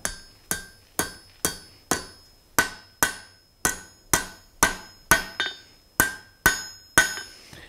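Hot steel is hammered on an anvil while forging a blacksmith's poker, a steady series of about fourteen sharp, ringing close strikes at an even rhythm of roughly two per second, each decaying quickly.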